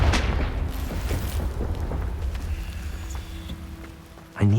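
A Confringo blasting spell in Hogwarts Legacy erupts in a loud rumbling explosion up front, its crackling debris trailing and fading over several seconds before a sharp hit at the end.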